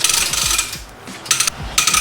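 A 50-foot pressure washer hose being pulled out beside a mobile detailing van, giving a steady ratcheting, rubbing mechanical clatter with bursts of louder clicking as the reel turns.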